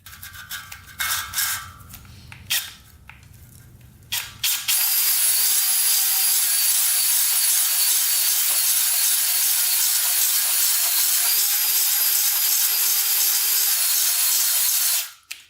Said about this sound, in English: reverse the drill, and then go in and out again